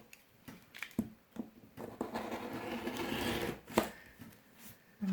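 Scissors snip through felt while a branch shape is cut for a quiet book page, with sharp, close clips at an uneven pace and a denser run of cutting midway, with no talk.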